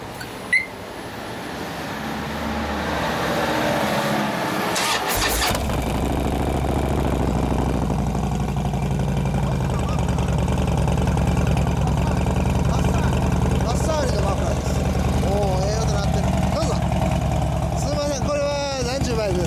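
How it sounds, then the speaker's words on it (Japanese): A 2015 Harley-Davidson Dyna Street Bob Limited with Bassani exhaust idles steadily with a deep, loping rumble, close and loud throughout, after a brief startup burst near the beginning. "エンジン音聞かせてもらえますか"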